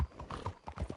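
Horse hooves clip-clop at a steady riding gait in the Red Dead Redemption 2 video game, a quick run of close, moderately loud beats over about a second with no talk.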